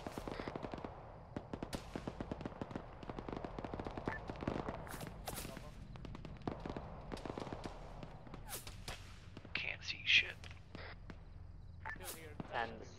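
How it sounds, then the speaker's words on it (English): Gunfire from a BMP armoured vehicle in the Arma 3 battlefield, rapid bursts of automatic shots rattling in clusters over a steady engine-like rumble, with people talking over the radio throughout. "I think that's our BMP shooting over us."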